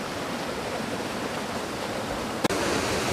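A waterfall in a jungle near Rishikesh rushes with a steady, unbroken roar, broken only by one sharp click about two-thirds of the way through.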